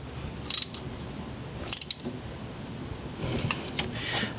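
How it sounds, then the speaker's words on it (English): A ratchet wrench tightens the belt tensioner bolt on a Ford Ranger engine in a garage, giving two short bursts of quick metallic clicks, then quieter ratcheting near the end, close up with no talking. "we can now tighten up this bolt."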